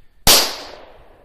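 A single sharp gunshot cracks out in the woods while shooting at a target, a loud sudden report that decays into a short echoing tail, with no voices over it.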